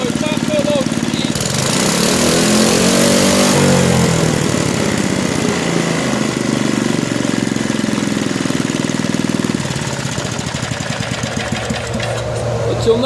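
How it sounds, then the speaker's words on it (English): Small engine with its governor disconnected, revving up from idle toward wide open throttle and overspeeding at no load; a loud, steady buzzing drone holds high for most of the stretch before easing slightly near the end. "the engine starts and idles fine, but when we go to wide open throttle or top no load speed,"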